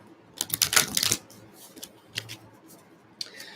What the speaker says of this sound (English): Again, I'm going to shuffle.